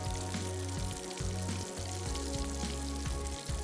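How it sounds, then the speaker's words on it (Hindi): Pakoras frying slowly in cooking oil over a low flame, a steady close crackling sizzle running throughout with a low hum beneath and no talk. "Slow slow slow slow fry होते रहेंगे, अंदर तक गल जाएंगे और बड़े क्रिस्पी खस्ता होने चाहिए ये।"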